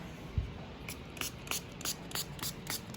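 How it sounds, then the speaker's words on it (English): A spray bottle is pumped repeatedly, giving about eight quick, close hissing spritzes in an uneven rhythm, with a soft knock just before them. "just give a quick little spray down of everything"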